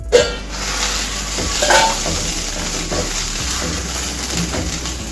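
A spatula stirs bitter gourd fry in a pan, with soft scraping and a low sizzle running steadily throughout, close and fairly loud, with no talking.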